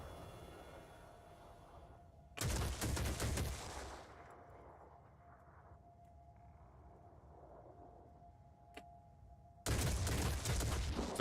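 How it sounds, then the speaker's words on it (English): Two loud bursts of gunfire hammer a structure in Phoenix Point, each lasting a second or two, separated by a quieter stretch with a steady electronic hum and a brief click. "Stop shooting at the structure!"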